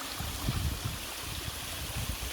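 Water flows steadily at the Saka waterfall near a stone bridge, a continuous broadband rush with low gurgling pulses, moderately close and without voices.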